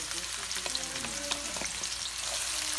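Onion frying in hot oil in a one-pot meal, a continuous bright sizzle and crackle with occasional utensil taps and scrapes, close and steady throughout.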